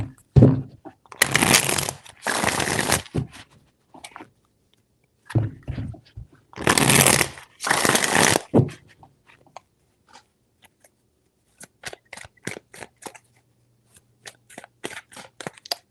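Tarot cards shuffled by hand in three bursts, each a loud riffling flutter lasting a second or two, with soft taps and card handling between them.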